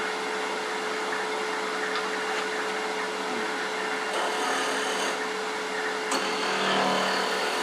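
A wood lathe spins a wand blank while a skew chisel makes finishing cuts, a continuous loud whirring hum with a steady tone and brief shifts where the cut changes, no voices.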